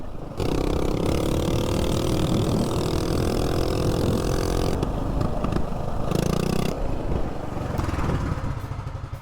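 A mini bike with a 196 engine runs in the desert, a loud, close, steady engine drone that holds for several seconds, dips briefly, then continues before easing off.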